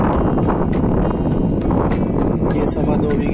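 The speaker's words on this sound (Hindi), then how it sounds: "काफी तेज हवा चल रही है वैसे तो।" Strong wind gusts across an open farm field during mustard sowing, buffeting the microphone with a loud, rumbling roar and uneven bursts. A voice talks over the noise.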